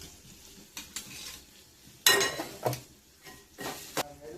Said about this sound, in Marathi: त्यानंतर तो ठेचा बनवला होता तो पण त्यात टाकून घेऊ. तो पण चांगला परतून घेऊ.